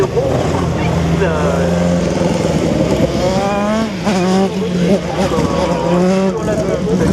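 A single-seater race car starts its slalom run at the Slalom du Mortanais, its engine revving and rising in pitch through gear changes. An excited commentator talks over the engine throughout.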